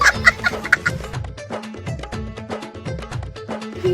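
A chicken clucks repeatedly and close by, in short choppy bursts with a few higher squawks early on.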